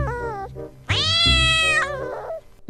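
A cat meows loudly and close, a short call followed by a long drawn-out wailing meow, alone with no voices.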